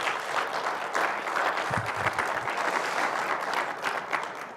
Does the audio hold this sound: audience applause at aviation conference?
yes